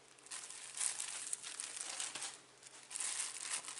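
Thin plastic packaging around a pair of DC buck step-down converter boards crinkles and crackles steadily as the package is opened by hand, close and continuous, with no talking.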